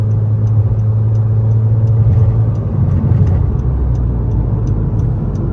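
A Honda Civic with an electronic exhaust muffler runs in automatic mode, giving a loud, steady, deep engine drone with a low rumble, heard from inside the closed car with a faint regular ticking above it.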